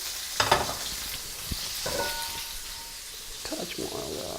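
Duck jalfrezi curry frying in a pan over a gas flame, giving a steady low sizzle with a few clinks and scrapes and faint voice-like sounds in the background.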